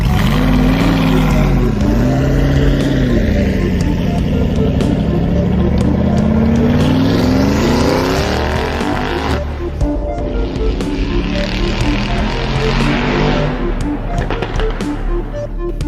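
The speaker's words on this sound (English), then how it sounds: "We're watching to see if the driver can actually pull this truck out of the mud and make it to the top." An off-road truck's engine revs hard while the truck fights through deep, waterlogged mud, a loud, continuous roar that rises and falls in pitch, with splashing and churning throughout.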